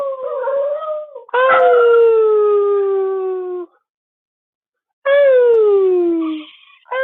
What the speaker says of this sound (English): Sometimes she howls.